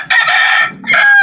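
A chicken in hot weather calls loudly and close by in two drawn-out, harmonic squawking bursts separated by a short pause, the second rising in pitch at its end.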